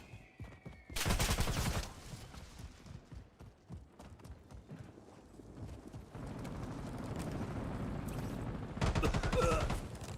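Bursts of automatic gunfire in Call of Duty: Warzone, two loud, close volleys about a second long with a rapid rattle, and scattered lighter shots and footsteps between them.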